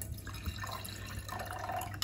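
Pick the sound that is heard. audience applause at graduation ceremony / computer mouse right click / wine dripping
wine dripping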